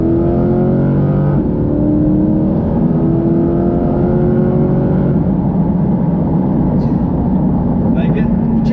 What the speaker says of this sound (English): I could just hear the motor all day.